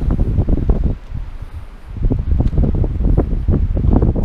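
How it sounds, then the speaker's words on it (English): Strong wind batters the microphone at a snowy wild camp on Loch Lochy during a canoe trip, a loud continuous rumbling roar in gusts with no voices. "We've had horrendous snow over the last sort of 8 hours, and the wind has just been terrible."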